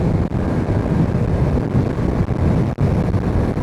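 Bajaj V15 motorcycle running at high speed on the road, a steady roar heavily buffeted by wind rushing over the microphone, with no talk.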